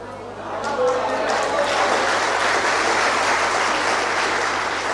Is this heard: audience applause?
yes